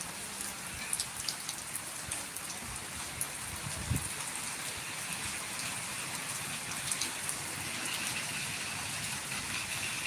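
Unseasonal rain falls in Jambughoda, a steady, even patter and hiss of drops that continues unbroken throughout with no voices.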